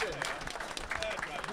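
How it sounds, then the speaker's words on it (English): Quiet audience applause at a convention musicians' panel, soft scattered clapping with voices talking over it throughout. "Give a round of applause."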